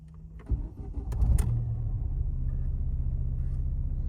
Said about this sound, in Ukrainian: Машина завелася.